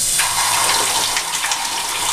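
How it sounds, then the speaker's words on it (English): Air rushes into the top of a well pressure tank as the water drains out, making a steady, loud hissing gush that carries on without a break. "And you can hear the air getting sucked in the top as the water evacuates."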